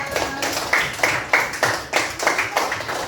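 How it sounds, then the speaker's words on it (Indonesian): A classroom of students claps together in a steady rhythm of about seven or eight sharp, evenly spaced claps, close and fairly loud, with no talking over it. "Oke, tepuk tangan untuk kita semua."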